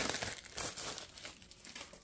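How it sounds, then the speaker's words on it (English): Plastic decorative mesh for a poinsettia craft being cut from a roll, giving a continuous close crinkling and rustling with brief tearing snips, fairly quiet and alone with no talking. "we're gonna cut this mesh and put that one in"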